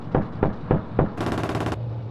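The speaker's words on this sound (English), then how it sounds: "The Russian infantry are pinned down by explosions and gunfire." Gunfire in combat during a Russian infantry assault: four sharp, evenly spaced shots followed by a rapid automatic burst, loud and close, with no voices.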